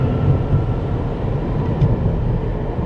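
A long train waits at a railway station in Taiwan, giving off a steady low rumble and hum that stays loud and even throughout, with no talking.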